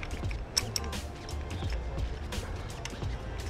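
Bolts being tightened by hand on the undertail plate and integrated taillight mount of a new 2024 motorcycle, giving close, small metallic creaks and ratcheting clicks in irregular bursts over a low room rumble.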